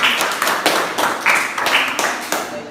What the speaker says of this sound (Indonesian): Beri tepuk tangan untuk panel 4.